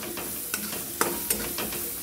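Garam masala spices sauté in hot oil, giving a soft steady sizzle broken by a few sharp scraping stirs of a utensil in the pan, close and fairly quiet, with no speech.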